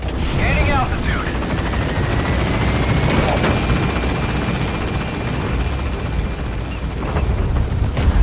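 A support helicopter in Metal Gear Solid 5 gains altitude with a loud, steady rotor roar that fills the whole stretch, while a voice talks faintly over it.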